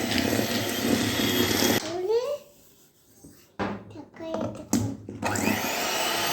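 An electric beater whirs steadily as sugar is beaten into cake batter, a loud continuous motor drone that drops out briefly midway, with short bursts of speech in the lull before the beating resumes.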